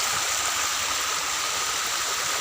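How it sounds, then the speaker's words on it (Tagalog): A small forest stream flows steadily, a close, continuous broadband rush of water with no voices over it. "Tayo po ay dadaan sa sapa."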